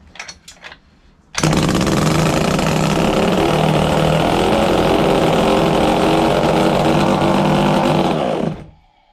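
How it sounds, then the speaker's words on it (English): A homemade two-stroke twin-cylinder jet drive engine starts after a few brief clicks and settles into a loud, steady, buzzing idle for several seconds before cutting out abruptly. "So I'll be able to just start it and idle it and see if it runs."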